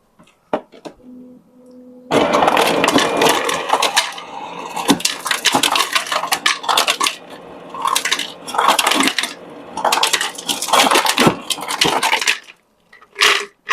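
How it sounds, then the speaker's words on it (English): Ice cubes clatter and crunch loudly as they are dropped into a Drew Barrymore countertop blender jar, a dense run of hard cracking and rattling with short pauses, close and without speech. "Let's get some ice in there and water, and we'll see what this baby can do."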